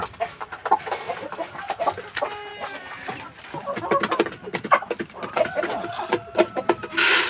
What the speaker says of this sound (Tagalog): Mga Bisayang manok at saka ano, Rhode Island chicken